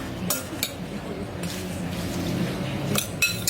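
Food being mixed in a bowl in a home kitchen, soft scraping and a few sharp clinks of utensil against the bowl spaced irregularly over a quiet background.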